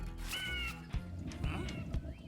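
A falcon cries in an animated series, a few harsh, raspy screeching calls rising and falling over a busy background of music and effects.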